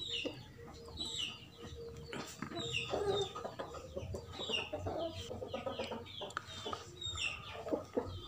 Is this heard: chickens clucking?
yes